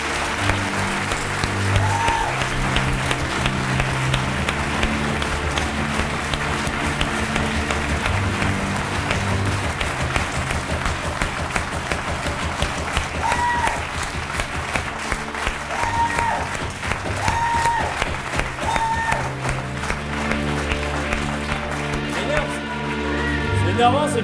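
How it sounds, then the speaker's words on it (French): Audience applause fills a live stage show, dense and sustained, mixed with a crowd murmur and steady music underneath for the full length. "On applaudit s'il vous plaît bien fort, Monsieur Stéphane."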